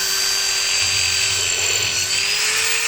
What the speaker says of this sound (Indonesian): kita lubangi menggunakan baut mata bor 6 mili